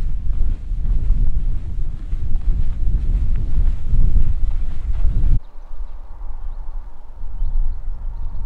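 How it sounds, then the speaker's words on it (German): Strong wind gusts in the upper Danube valley on a hiking trail, roaring and buffeting the microphone for several seconds before easing to a softer, steadier blow. "Und ganz schön windig ist es hier."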